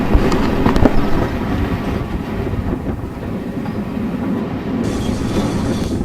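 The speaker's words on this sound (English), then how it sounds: "The train slows as we approach the station" Heritage train on the West Somerset Railway along the Severn estuary coast, rumbling steadily with rail noise and clattering wheels as it slows toward Blue Anchor station, loud and close throughout.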